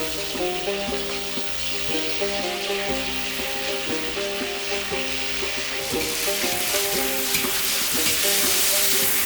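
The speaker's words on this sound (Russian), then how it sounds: "Перемешиваем так, чтобы каждому кусочку достался хороший жар, чтобы каждый кусочек зарумянился, стал золотисто-красного цвета" Pieces of meat sizzle loudly in a hot, smoking oiled kazan while being stirred, a dense continuous crackle with clanks and scrapes of the utensil throughout.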